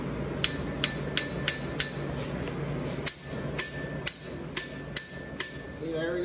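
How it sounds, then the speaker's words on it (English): Torque wrench tightening cylinder head bolts on a Honda Civic D16 engine, giving a series of sharp clicks in a steady rhythm, about a dozen, close by over a low background hum. "We'll lock the torque wrench down and start getting tightening these bolts."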